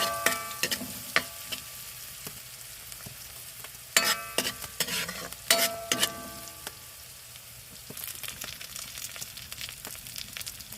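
Ingredients being sautéed in a pan until browned sizzle steadily as a spatula stirs and scrapes against the metal in irregular bursts of clatter, close up and without speech.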